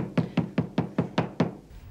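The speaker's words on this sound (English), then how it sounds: "The knocks you hear when Celine and Julie enter the drama for the last time are the traditional knocks sounded in French theatres before the curtains go up." Traditional French theatre knocks sounded before the curtain rises: seven sharp, evenly spaced wooden thuds in a steady rhythm, close and fairly loud, with no other sound around them.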